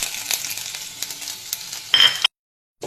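Ginger, cumin and pepper sizzle and crackle in hot ghee in a kadai, a steady close frying hiss with a brief louder burst near the end before cutting off.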